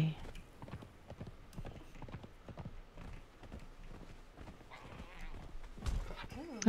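Horse hooves clip-clop steadily in the Conan Exiles video game, a run of fairly quick, soft thuds that continue throughout, with a voice speaking briefly over the hoofbeats.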